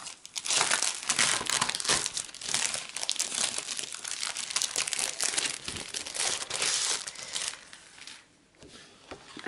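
A 30 x 30 cm scrapbooking paper pack of heavy 250 gsm sheets is opened, producing loud, close plastic crinkling and rustling with sharp tearing-like bursts that gradually settle into quieter handling.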